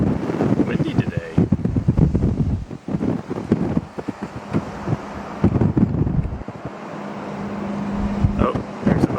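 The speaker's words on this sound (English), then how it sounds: "Windy today." Strong gusts buffet the microphone outdoors on a windy day at a hotel near Disney, a loud, uneven low rumble that rises and falls while voices speak faintly underneath.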